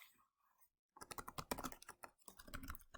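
Computer keyboard typing, a quick run of loud, close key clicks in bursts after a brief quiet start, with no voice.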